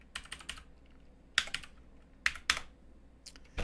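Typing on a computer keyboard in short bursts of clicking keystrokes, with quiet gaps between clusters of keys, close and alone with no talking.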